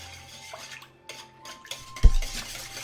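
Crumbled fresh yeast, water and thin yogurt are stirred together in a large bowl for a homemade yogurt-and-honey bread. Soft scraping and light clinking of the utensil against the bowl build to one louder knock near the end.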